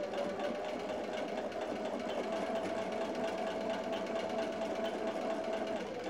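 A sewing machine stitches binding onto a quilt as it runs over a seam, giving a steady, close, continuous motor hum with a fine rapid needle clatter throughout and no talking.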